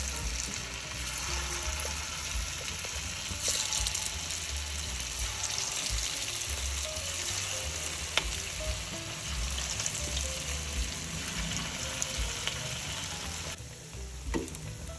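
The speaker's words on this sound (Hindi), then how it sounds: "ऑयल हमारा गर्म हो गया है पैन में हमने ऑयल डाला था ऑयल गर्म हो गया ये हम अब फ्राई करेंगे" Chatkhara beef boti pieces fry in hot oil in a pan, a loud, dense, continuous sizzle heard up close with no talking, easing slightly just before the end.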